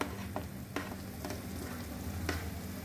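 Crushed garlic sizzles softly in a pan with translucent onion, a low steady frying hiss with a few light scrapes of stirring.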